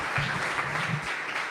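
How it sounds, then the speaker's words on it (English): An audience claps steadily in a room after a talk at an AI developer meetup, dense and even throughout with no voices over it. "let's give Daniel a round of applause"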